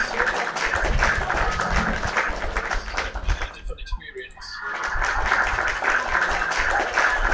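Loud, sustained crowd cheering and applause celebrating Aaron Chia and Soh Wooi Yik's Badminton Asia Championship 2025 win, briefly dipping midway before swelling again.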